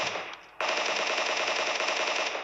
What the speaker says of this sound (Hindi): मिलिट्री बेस में अगेन कुछ बॉट्स फायर करते हैं